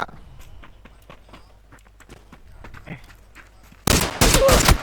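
Gunfire in the PUBG video game: quiet footsteps and soft movement, then a sudden loud burst of rapid close shots in quick volleys near the end.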